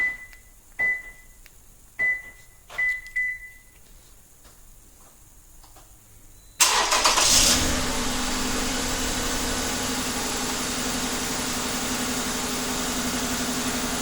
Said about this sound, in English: We're going to activate the remote start.